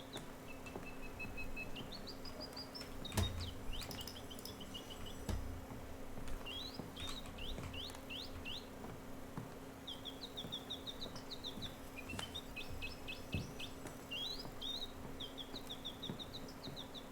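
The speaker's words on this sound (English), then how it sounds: "That bird is super annoying." Birdsong from the horror video game Ad Infinitum: a bird repeats short, bright rising chirps in quick bursts over a low, steady ambient hum. The calls are moderately loud and recur throughout with brief pauses between phrases.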